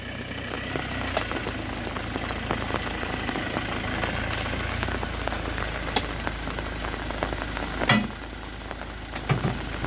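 Rain falls steadily with a dense hiss while palm fruit is loaded into Ford Ranger and Toyota Revo pickup trucks, and an engine idles low underneath, with scattered sharp knocks and thuds.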